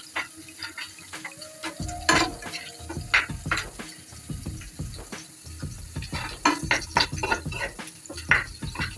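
Dried red chilies and green chilies frying in a pan for a water spinach (kolmi shak) dish, with steady sizzling and repeated scraping stirs and clinks throughout, close and moderately loud.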